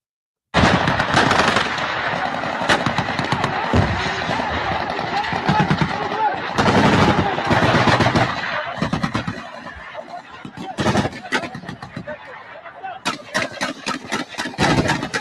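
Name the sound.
recorded exchange of gunfire at a military base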